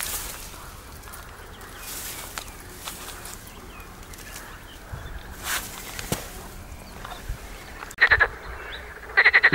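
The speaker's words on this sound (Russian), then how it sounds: "Страшный рев с лягушек стоит." Frogs croak at night by the water under a full moon, with scattered soft rustles and splashes early on, then bursts of loud, close, rapid trilling croaks near the end.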